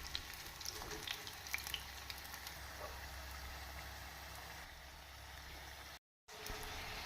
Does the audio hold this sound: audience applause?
no